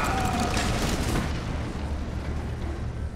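Gunfire and explosions from the sci-fi space shooter game From Other Suns, a dense, loud rumbling barrage of booms and blasts that continues without pause and fades slightly toward the end.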